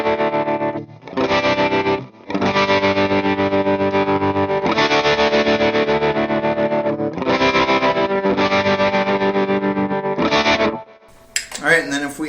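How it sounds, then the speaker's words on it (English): Electric guitar played through a Fender Super Sonic 22 head with a tremolo pedal, loud sustained chords pulsing steadily in a rhythmic throb, with short gaps between phrases and a brief ring-out at the end. "We're going to go ahead and run the tremolo pedal really quick."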